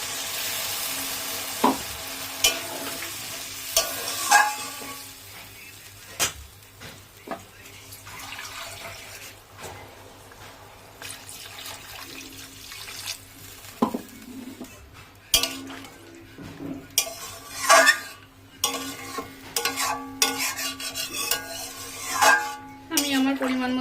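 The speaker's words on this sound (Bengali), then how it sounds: "এখন আমি এর মধ্যে জল দিয়ে দেবো মিক্সিটা ধুয়ে রাখা জলটাই প্রথমে দিয়ে দিলাম" Water, including blender rinse water, goes into a frying hilsa fish curry with ridge gourd and potato, giving a hiss and sizzle followed by intermittent clinks of utensils and pans, with some talking at times.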